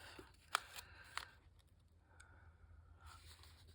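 Scissors cut a sheet of paper in half for a grungy journal page, with two sharp snips up close followed by a soft sliding cut, quiet in a still room.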